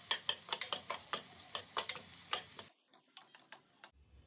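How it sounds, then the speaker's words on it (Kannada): Onions frying in butter in a pan for egg biryani, heard as soft, quiet rhythmic stirring strokes over a faint sizzle, slowing and thinning out before a brief hush at the end. "ಆನಿಯನ್ನ ಬ್ರೌನ್ ಆಗೋವರೆಗೂ ಫ್ರೈ ಮಾಡ್ಕೋಬೇಕು."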